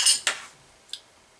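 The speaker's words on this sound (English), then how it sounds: "you just drop the penny on the top there" A penny dropped onto the top of a small metal penny cooker alcohol stove, three bright metallic clinks, the first rattling briefly, the later ones short and lighter, close up with no talk.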